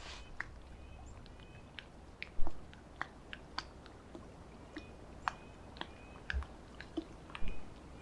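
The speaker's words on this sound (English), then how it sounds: "I think I hear him chewing over there." Intermittent crunchy chewing and biting sounds, irregular and somewhat distant, against a quiet outdoor background.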